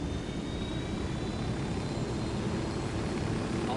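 A helicopter in a video game makes a continuous, loud, dense rotor-and-engine roar that stays even throughout, with no talking.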